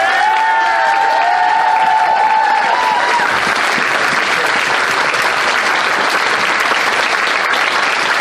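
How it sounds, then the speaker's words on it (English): Loud, sustained applause and cheering from a crowd at a furry convention dance competition, a dense wash of clapping that carries on throughout, with a voice speaking over it at the start. "can we get a huge round of applause for all the dancers"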